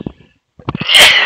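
A man sneezes once, loud and close, during a live tutorial session, with a short burst of breathy noise after a quiet pause and a few faint vocal sounds just before.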